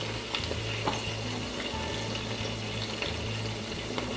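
Coconut cream sizzles and fries with red curry paste in a pan for a Thai red curry with pineapple and shrimp, a steady crackling bubble close up with occasional stirring scrapes throughout.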